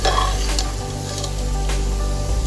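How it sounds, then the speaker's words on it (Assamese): Joha rice for pulao fries slowly in a pan over a low flame, giving a close, steady sizzle broken by a few scraping stirs, with no talking. "বহুত লাহে লাহে ভাজি আছোঁ মই"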